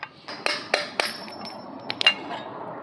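A hammer striking out the bearing race of an old kids' bike, a run of sharp metallic clinks at a steady rhythm, then a couple of faster quieter taps and a final louder knock.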